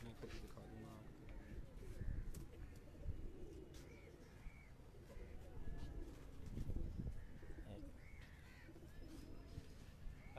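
Female pigeon cooing on a rooftop, soft repeated coos rising and falling under someone talking nearby, with faint outdoor background noise throughout.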